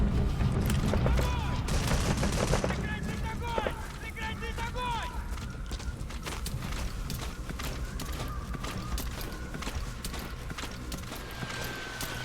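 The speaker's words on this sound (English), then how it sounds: "it looks like they're mortar striking over where they think I am" Mortar strikes rain down in Metal Gear Solid V, a dense barrage of booming impacts and crackling gunfire that stays loud and continuous throughout, with mechanical clatter mixed in.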